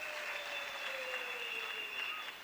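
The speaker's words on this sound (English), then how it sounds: "Can we also give them a big round of applause" A graduation ceremony audience at the University of Limpopo claps steadily, a dense, even wash of applause that holds at the same level throughout.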